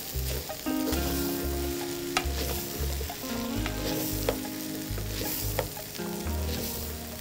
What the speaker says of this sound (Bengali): যখন এই চাল আর ডালের মিশ্রণটা ভাজবেন, আপনি সবসময় খেয়াল রাখবেন যেন নিচে পুড়ে না যায়